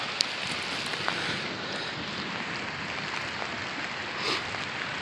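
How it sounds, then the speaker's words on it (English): Steady rain falls outdoors during a thunderstorm at a fishing spot, a continuous even hiss of drops with a few faint ticks and no talk. "you gotta come out the rain"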